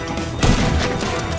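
Gunfire in GTA V Online on PC, one sharp loud blast near the middle of a short burst of game noise, with the shot's ring and rumble trailing off after it.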